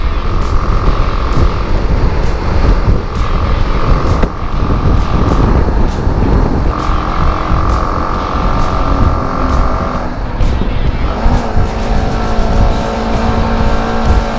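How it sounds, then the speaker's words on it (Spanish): A loud BMW G310 GS motorcycle engine drones steadily, straining uphill, its pitch holding then shifting as it labors under load, with a constant rumble and no talking. "escuchen el motor, se escucha muy forzado"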